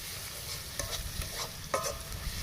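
Ground spices — cumin, chili and Kashmiri chili powder — stirred steadily as they fry in oil in a pan, a constant close sizzle with repeated scraping strokes of the spoon and no talking.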